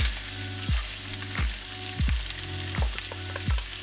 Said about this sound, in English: And the frozen peas.